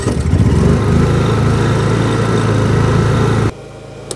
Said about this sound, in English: I like to turn on my generator with the eco throttle off.